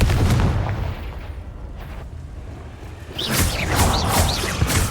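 Confringo fire spell blasts in Hogwarts Legacy, a loud opening burst followed by a quieter stretch, then a fresh series of booming, crackling impacts with sharp rising whooshes near the end.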